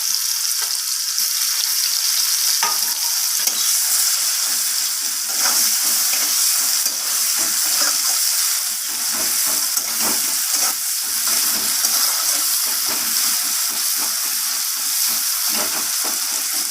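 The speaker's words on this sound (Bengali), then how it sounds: "পেঁয়াজগুলোকে একটু হালকা বাদামি রং করে পেঁয়াজগুলোকে ভেজে নেব" Sliced onions frying in oil with cumin seeds, a loud, steady sizzle broken by repeated stirring and scraping strokes in the pan.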